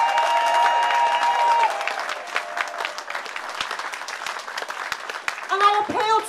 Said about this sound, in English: let's give them a massive cheer